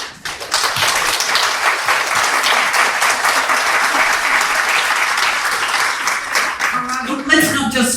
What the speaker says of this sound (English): Let's not just clap John and his question and the answer